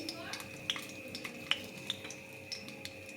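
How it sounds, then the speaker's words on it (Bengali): Whole garam masala tempering in hot oil left over from frying pointed gourd, a soft steady sizzle with light spatula taps and scrapes on the pan, close and fairly quiet. "পটল ভাজা তেলের মধ্যেই আমি এখানে গোটা গরম মশলা ফোড়ন দিয়ে দিচ্ছি।"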